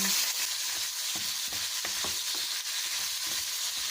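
Rice stirred and fried in a wok-style pan while cooking adobong sitaw, a steady close sizzle broken by repeated scraping clacks of the utensil against the pan, with no voices.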